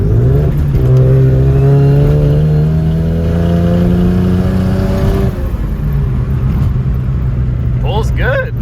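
A turbocharged Mazda FC RX-7 rotary pulls hard in second gear, its loud engine note climbing steadily for several seconds before easing off, with brief voices inside the car.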